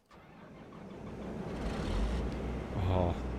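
A combine harvester's engine in Farming Simulator 25 cranks and catches, then settles into a steady, rising mid-pitched rumble that swells briefly near the end.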